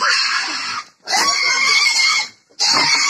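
A loose pig outdoors grunts and squeals in loud, harsh bursts, two long runs broken by short pauses, close and dominating the scene.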